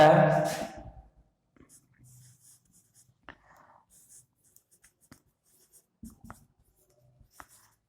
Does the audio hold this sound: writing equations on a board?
yes